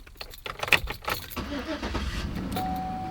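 Pickup truck engine cranking and catching, with a brief jingle of keys near the start, then settling into a steady low idle as a faint whine comes in toward the end.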